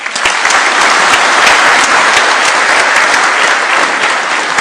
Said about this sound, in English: A warm round of applause for His Excellency on that